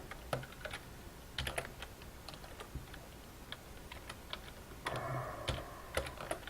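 Computer keyboard clattering as code is typed, irregular keystrokes with a few louder taps, near and fairly quiet over faint room noise, with no speech.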